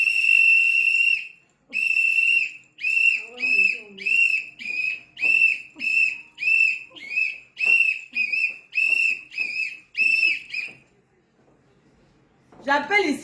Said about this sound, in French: Quand je sors le sifflet, ça veut dire que...